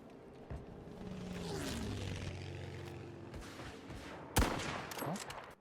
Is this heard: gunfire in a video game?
yes